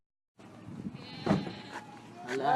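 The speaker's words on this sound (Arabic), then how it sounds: "اوريك خروف الحين" Farm sheep bleat in a few short, close calls over a busy outdoor background, with a brief louder burst midway and a rising, harmonic cry near the end.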